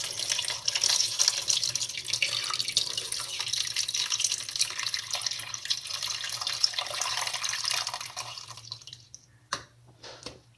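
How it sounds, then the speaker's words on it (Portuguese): About 1.5 litres of room-temperature water pour steadily into the reservoir of a 4-in-1 air cooler, a close continuous splashing stream that stops near the end, followed by a few drips and clunks. "eu vou adicionar aqui água no meu reservatório"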